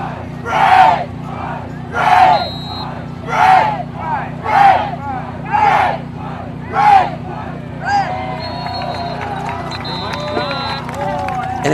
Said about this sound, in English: at that initial cheer you guys are witness of the red and white chant